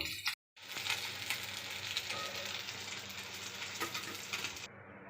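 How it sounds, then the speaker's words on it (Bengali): Fish fry in hot oil in a pan, giving a dense, steady crackling sizzle with scattered sharp pops and spits throughout, near and fairly quiet, broken by one brief dropout at the start. "আমার মাছ প্রায় ভাজা হয়ে গেছে"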